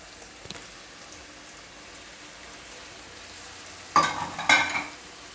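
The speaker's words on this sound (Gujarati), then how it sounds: "હવે આપણે આમાં પનીર નાખી દઈએ." Paneer hits a hot pan with a brief burst of sizzling and stirring near the end, after a quiet stretch of faint frying.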